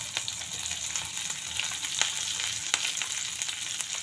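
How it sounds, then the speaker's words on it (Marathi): Urad dal sautés in a pan with onion, garlic, curry leaves and broken red chillies, giving a dense, even hiss of frying with small scattered pops and no voice. "आता हे आपल्याला कांदा मऊ होईपर्यंत छान परतून घ्यायचं आहे"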